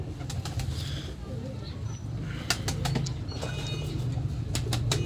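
Pigeons coo quietly in a loft while sharp wing flaps and clatters break through in bursts, with low murmuring in the background.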